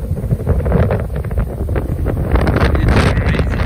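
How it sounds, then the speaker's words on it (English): Strong gusting wind, about 45-50 km/h, roars across the microphone at an estuary during spring tides: a loud, continuous, buffeting rumble with no voices. "I just want to show you the wind that I'm dealing with today."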